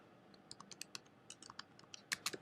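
Typing on a computer keyboard while entering a search query, a quick run of about fifteen crisp, close key clicks in uneven bursts, ending with a couple of louder strikes.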